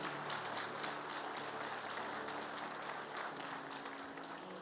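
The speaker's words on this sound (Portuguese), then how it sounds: "fiquem à vontade, pode aplaudir" Applause from a church congregation during a sermon, a dense steady wash of many hands clapping that stays fairly even throughout with no voices standing out.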